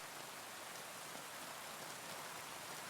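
Rain falls steadily at a city tram platform late at night, a faint, even hiss of drops with no breaks and no voices.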